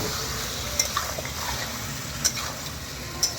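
Meat stir-fried in a pan: a steady close sizzle runs throughout, broken by a few sharp scrapes and clinks of the spatula against the metal.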